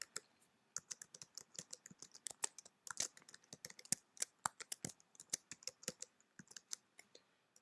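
Someone types on a computer keyboard, entering employee information into store software: quick, quiet clicking keystrokes in an irregular, steady run.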